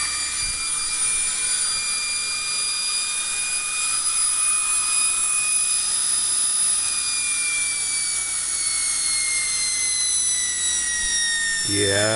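A homemade universal pulse motor rotor spins steadily with a continuous high whine and a few rising and falling tones, holding level throughout before a brief shift near the end.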